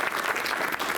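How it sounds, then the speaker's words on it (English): Audience applause for a panel at an evening program event, a dense and steady wash of many hands clapping at once, close and fairly loud, with no voices. "can we just get a quick round of applause for this incredible panel?"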